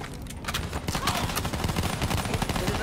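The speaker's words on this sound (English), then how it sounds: "Why is the pistol so much louder than the AR?" Rapid gunfire in the Black Ops 3 campaign, a dense, loud, continuous rattle of shots that may come from a pistol, with a brief lull at the start and no clear talk over it.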